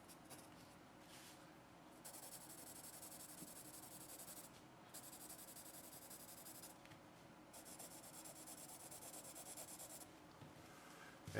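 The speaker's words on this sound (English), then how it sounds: "Very nice pencil to write with." A Blackwing 344 pencil scratching across paper in close, quiet strokes, a soft papery rasp broken by short pauses between bursts of writing, with no talking.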